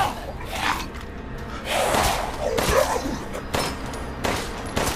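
Gunshots in the video game Resident Evil Village, several loud close shots spread unevenly through a few seconds.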